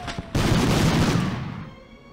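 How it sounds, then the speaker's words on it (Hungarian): Medal of Honor video game gunfire tears through crates in a loud sustained burst of rapid shots. The burst follows a couple of short bangs, then fades into a ringing tail. "Dobozokat én most szétlövöm."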